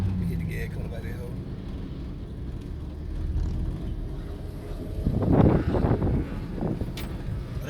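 A car accelerates away at a car show, its engine rising to a rumbling roar in the second half over steady outdoor wind noise, with people talking nearby.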